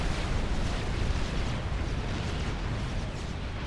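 A strategic bomber's bombs explode in the strategy game Forged Alliance Forever, a loud rumbling roar of blasts that stays dense and even throughout.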